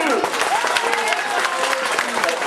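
Audience at a government primary school's annual sports and cultural event clapping, dense close applause with voices mixed in.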